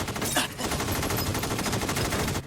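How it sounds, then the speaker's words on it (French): Rapid police gunfire in a film shootout against armed bank robbers, dense overlapping automatic bursts and shots rattling loudly and continuously with no gaps or talk. "Tous les policiers ont ouvert le feu. Ils tirent des centaines de coups de feu."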